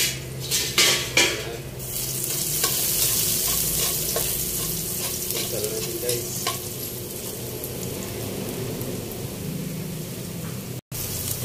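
Minced garlic hitting hot cooking oil for lumpiang hubad, sizzling loudly and steadily up close, with a few clanks of a utensil against the pan early on.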